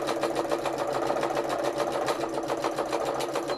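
A sewing machine stitches free-motion embroidery onto hand-painted fabric at a steady medium-fast pace, with a close, continuous rapid needle rhythm and no talking.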